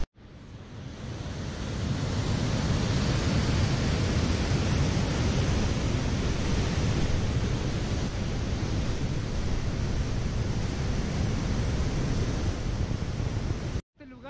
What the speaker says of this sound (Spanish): aquí llegamos a otra cascada que dice Cascada Caminos de Rumipamba